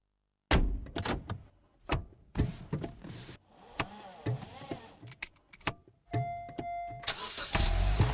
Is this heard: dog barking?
no